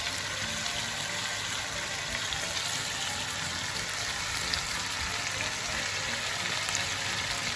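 Chicken tikka pieces coated in spiced yogurt marinade cook on a hot tawa with a dense, constant sizzle and bubbling, loud and close throughout, with no voices.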